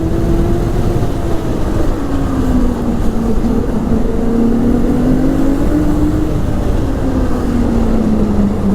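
A Ski-Doo Renegade 900 ACE snowmobile in sport mode pulling away from a dead stop, its engine droning loud and close with the pitch rising and falling as it accelerates steadily.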